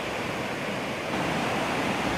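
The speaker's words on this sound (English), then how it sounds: "This is the Wind River." Water of the Wind River rushes through a canyon in Wyoming, a steady, dense roar that holds at an even loudness throughout, with no voices.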